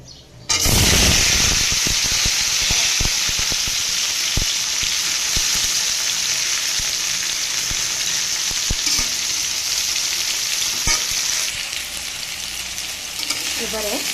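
Broad beans and potatoes hit hot oil in a kadai with cumin and ginger, bursting into a loud, dense sizzle that holds steady for over ten seconds, with scattered crackles and pops and no talking.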